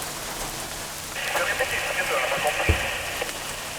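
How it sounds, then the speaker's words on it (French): Rain falls outside at a rally event, a soft, steady patter heard from a little way off. A faint radio-like hiss and a few small knocks sit in the background. "il pleut"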